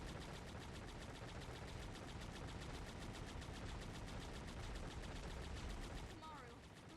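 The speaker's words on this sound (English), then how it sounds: "Machine gun!" Sustained machine gun fire in the video game Danganronpa Another Episode, a continuous dense rattle of rapid shots that holds loud and steady before easing off at the end.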